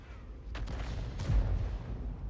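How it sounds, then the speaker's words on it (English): A tank shell lands near an Object 705A in a tank video game, giving one rumbling boom over low background noise with a second dull impact shortly after. "that shell lands very close to the Object 705A"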